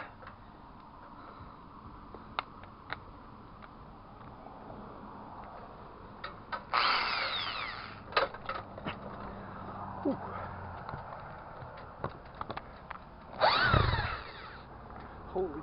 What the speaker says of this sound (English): go over to the drill